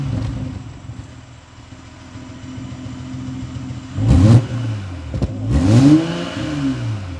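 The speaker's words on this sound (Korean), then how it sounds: "BMW X5 40i MSP 순정 배기." BMW X5 40i M Sport (G05) with its factory stock exhaust, revved twice in quick succession over a steady idle, each blip rising sharply then falling back, close and fairly loud.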